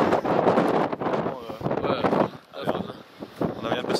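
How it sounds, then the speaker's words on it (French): Strong wind at El Chaltén in Patagonia buffets the microphone in a loud, continuous roar that surges and dips briefly before building again. "un vent de taré."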